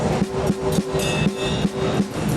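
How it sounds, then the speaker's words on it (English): Mapex Artist Series maple-mahogany snare struck dry in the center, a run of short, tight, ringless hits in steady rhythm, close and fairly loud over a faint hum. "it dries the drum up and makes a very small center sound like this"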